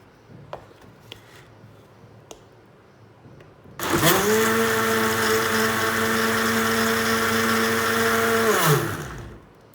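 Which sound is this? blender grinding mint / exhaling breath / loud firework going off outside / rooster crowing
blender grinding mint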